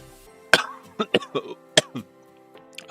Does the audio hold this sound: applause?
no